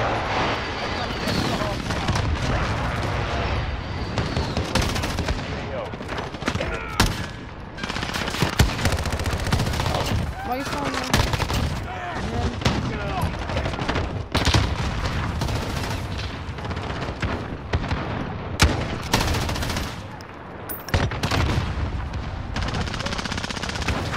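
An MG-34 machine gun in the Call of Duty Modern Warfare video game fires long, loud, rapid bursts, nearly continuous with brief gaps, amid dense game battle noise.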